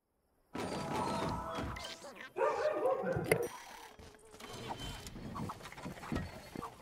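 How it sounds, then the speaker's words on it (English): Dogs bark in the background of a LittleBigPlanet level during a Winter Pride 2023 stream, repeated yaps mixed into busy game music and sound effects. "Got some dogs in the background."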